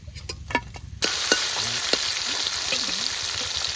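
A sudden burst of loud, crackling sizzle from freshly caught canal fish frying in a pan starts after a second and continues steadily, with faint voices nearby.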